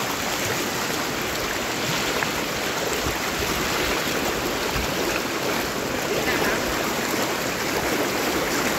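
Floodwater rushing through a residential area like a river, a steady broadband wash of flowing water that stays loud and continuous throughout, with faint murmurs of voices underneath.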